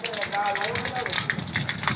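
Water gushes in a steady, loud rush from a motor pump pipe, pouring out around someone's feet, with a voice briefly heard alongside.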